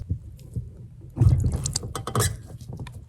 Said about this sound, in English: As you can see, it's starting to drip.